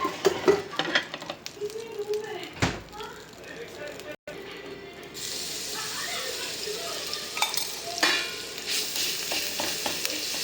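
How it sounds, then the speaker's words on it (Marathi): Ginger-garlic paste hits hot oil on a tawa for a tava egg masala, giving a steady close sizzle and frying hiss with occasional stirring scrapes and utensil clinks, and speech is heard over it. "तेल मस्त गरम झालं की त्यात टाकायचं आपण अद्रक लसूणची पेस्ट"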